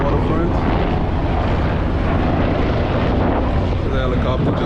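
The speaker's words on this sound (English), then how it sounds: "The helicopter just leaving the helipad." Helicopter lifting off from a pier helipad on the New York City waterfront near Governor's Island, a loud continuous rotor and engine roar mixed with strong wind buffeting on the microphone.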